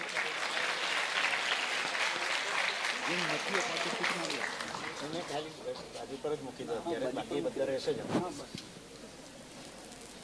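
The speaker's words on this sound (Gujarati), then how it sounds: "આપણે આપને તાળીઓથી વધાવીએ" An audience at a school prize distribution for a speaking contest claps in a sustained burst that gradually thins out, with a voice talking over the applause.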